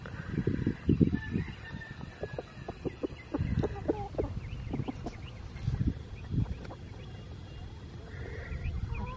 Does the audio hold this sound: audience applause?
no